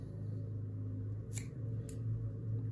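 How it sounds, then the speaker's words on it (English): Scissors snip deer hair on a fly-tying bug, two short crisp cuts close by over a steady low background hum. "Trim again."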